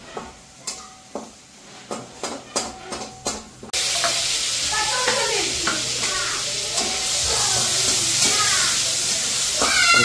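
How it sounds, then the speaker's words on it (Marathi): Tomatoes are sautéed in a pan while mutton cooks nearby, a few sharp stirring clatters giving way to a loud, continuous sizzle with crackling pops that swells slightly toward the end; no voices. "टोमॅटो परतून घ्यायला चालू झालंय."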